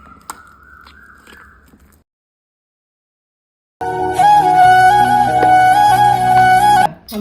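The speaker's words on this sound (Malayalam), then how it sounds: "ഇതൊന്ന് മിക്സാക്കിയിട്ട് ഇതൊന്ന് അരച്ചെടുക്കണം നമുക്ക്" A mixer grinder grinding onion spice paste for a sardine dish, a loud, steady electric whir with a whining motor tone, starts after a pause and runs for several seconds, then cuts off abruptly.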